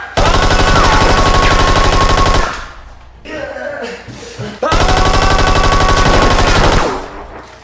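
Rapid Nerf blaster gunfire from the Papa Louie Pals video game, two long loud bursts of fast repeating shots separated by a brief quieter pause with game effects.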